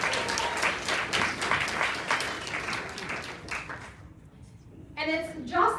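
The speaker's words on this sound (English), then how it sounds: "give yourself a round of applause for being here tonight" An audience claps at an evening social housing event, loud dense applause that tapers off after about four seconds, followed by a brief voice.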